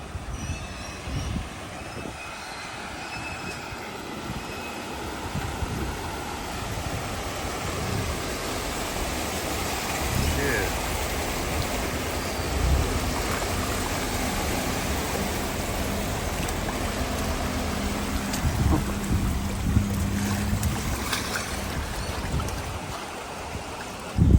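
Ocean water floods the streets of Cartagena, a loud, continuous rushing wash of water with a steady broadband roar throughout and no clear speech.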